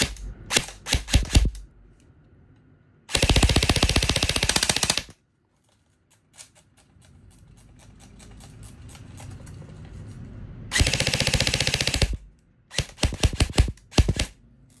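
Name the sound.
E&C 620 MK18 airsoft AEG rifle test firing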